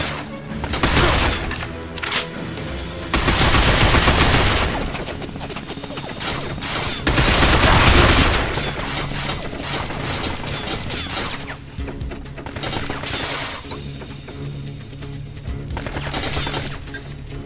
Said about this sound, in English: Dan, I'll take care of the machine gun.